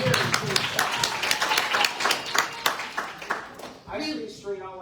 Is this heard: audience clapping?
yes